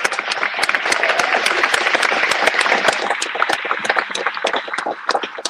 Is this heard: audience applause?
yes